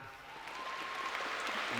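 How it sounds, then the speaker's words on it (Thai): Faint, distant applause rises and swells briefly from the audience at a Thai film awards ceremony, a soft wash of many hands clapping with no talk over it. "ขอเสียงปรบมือให้คุณ MJ ด้วยนะครับ"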